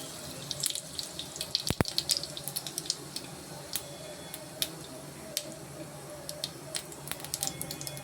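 Cumin seeds hit hot oil in a pan and fizz with a steady, soft crackling hiss, sprinkled with sharp pops and ticks, close by and fairly quiet, with no talking over it.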